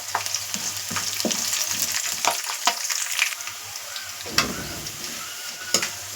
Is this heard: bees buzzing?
no